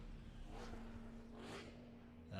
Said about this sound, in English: I just heard a car go thundering by and make a whole big sound